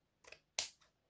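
Scissors snip through a paper card while making an A4 card, two quick cuts close together followed by a faint trailing snip, near and clear with no talking.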